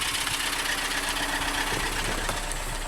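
A VW Tiguan engine idles with a steady, even drone while the drive belt slips on an oil-soaked alternator, adding a faint whine over the close mechanical hum.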